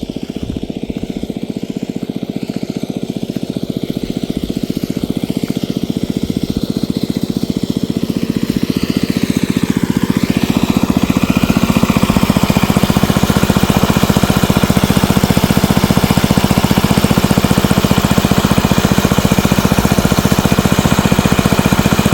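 An engine-driven water pump drones loudly and continuously, its pitch shifting and the noise building around the middle before settling into a steady roar.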